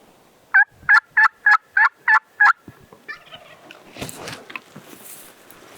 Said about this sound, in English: Bird just gobbled right up the hill from me.